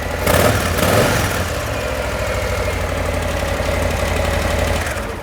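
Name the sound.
motorcycle engine idling with stock exhaust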